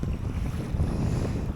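Gusty wind buffets the microphone out on Llyn Gwynant, a lake in North Wales, while kayaking, a steady low rumble with choppy water lapping against the boat throughout.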